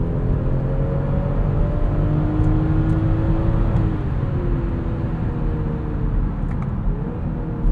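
A 2020 BMW X5 xDrive40i with its inline-six and 8-speed gearbox accelerates, a steady close engine hum and whir rising in pitch under road rumble from inside the cabin.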